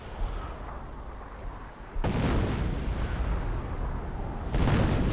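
Heavy howitzer artillery booms out in a World War II strategy video game, one deep blast landing at about two seconds and another at four and a half, each followed by a sustained rumbling roar.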